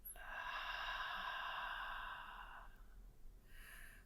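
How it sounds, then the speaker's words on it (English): Slow, gentle breathing during a calm guided meditation: one long, soft airy breath flowing steadily, then a brief pause before the next breath begins, close and quiet with no talking. "Taking a soft, gentle breath in and out of your heart center"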